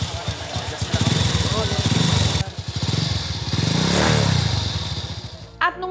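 A yellow secondhand motorcycle being test-run, its engine putting close and loud with rising and falling revs and a clattering pulse, while people talk over it.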